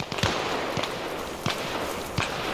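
Sharp gunshots crack out at regular intervals in an Arma Reforger forest firefight, about four in a row, over a constant hissing background with no voices.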